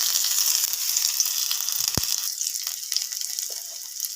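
Ginger and green chili frying in hot mustard oil, a steady bright sizzle that hisses continuously close up, with one sharp knock partway through and faint stirring after it.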